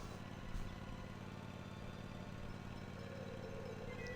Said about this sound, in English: It's like a riding mower.